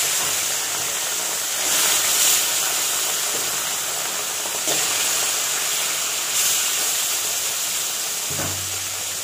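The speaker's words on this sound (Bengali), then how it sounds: "বাকি মাছগুলো ভেজে নিই।" Fish frying in hot oil for a Bengali fish curry with vegetables, a loud, continuous bright hiss and sizzle that swells a few times, close up, with no talking.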